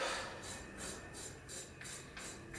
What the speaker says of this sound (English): So give it a good scrape.